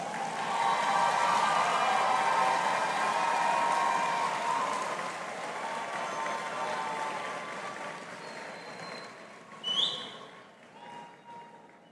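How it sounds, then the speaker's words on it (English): Graduates in a large graduation ceremony hall applaud their family and friends, a dense, even patter of many hands that slowly thins and fades, with a few scattered claps and a brief whistle near the end. "give them a round of applause"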